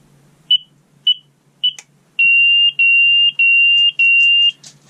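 A carbon monoxide alarm on a narrowboat sounds close and loud, first three short chirps and then four long piercing beeps in a steady rhythm, with no talking.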